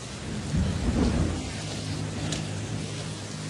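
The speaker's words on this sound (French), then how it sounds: "Mais il pleut." Steady heavy rain with rumbling thunder at a sulphur-mining volcano in Indonesia, a dense continuous wash of rainfall with a deep roll building early and fading into the downpour.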